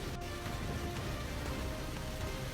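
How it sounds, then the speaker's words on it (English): Heavy rain in a raging storm with gale-force winds, a dense continuous hiss of downpour hitting surfaces, steady and close with no voices. "The raging storm wreaked havoc with gale-force winds toppling trees and blinding sheets of rain"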